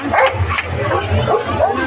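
Dogs at the Sonpur Mela dog market barking and yipping in short, overlapping bursts among a busy fair crowd, with voices and general market noise continuous underneath.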